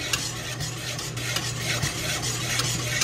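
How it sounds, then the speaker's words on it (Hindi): Milk stirred with added milk powder in a pot for a lab-e-shireen dessert, a steady close scraping and rubbing swirl running the whole time with no talk over it. "मिल्क पाउडर ऐड करने के बाद हम इसको अच्छी तरह से मिक्स कर लेंगे"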